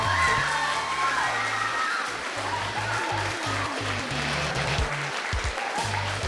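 Crowd applause and cheering for a band at a local battle of the bands contest, dense clapping with some shouts from the audience, while a low rhythmic bass thump from amplified music carries underneath most of the clip.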